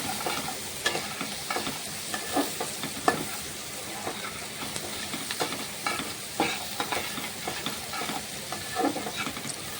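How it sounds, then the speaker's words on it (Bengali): Potatoes sizzling in a pan with fried onions, a steady frying hiss broken by repeated scraping taps as they are stirred, close and moderately loud with no talk. "পেঁয়াজগুলো ফ্রাই হয়ে গেছে এখন আলু দিয়ে দিচ্ছি"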